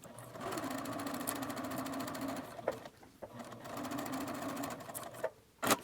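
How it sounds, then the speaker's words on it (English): A sewing machine runs a long basting stitch along the edge of a pouch: a steady mechanical whir up close, broken by two brief pauses, with no talk. "take it over to the sewing machine and do a basting stitch 1/8 of an inch from the edge, 4mm stitch length"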